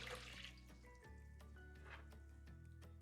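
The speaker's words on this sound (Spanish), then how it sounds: "Vamos a primero poner nuestra agua tibia," Warm water pours into a bowl for homemade spelt ciabatta dough, a steady splashing trickle with drips, running continuously and close for about three seconds with no talk.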